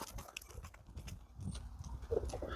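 A horse's hooves clop quietly on the ground in a few soft, irregular knocks, faint and close by, with no talking.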